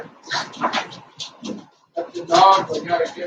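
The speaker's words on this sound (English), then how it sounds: "That's the dog." A dog barks and whimpers in short bursts close by in a home near a garage, mixed with people talking.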